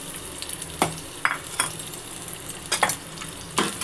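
Crushed garlic and cumin seeds fry in hot oil for a tangy Indian gooseberry pickle, a steady close sizzle broken by several sharp stirring scrapes and clinks of a spoon against the pan.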